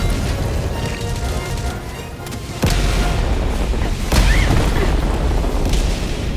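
Loud, close explosions from an orbital barrage in Helldivers 2 rumble through a sci-fi battlefield, with two heavy booming blasts about a second and a half apart over a dense, continuous roar of combat noise.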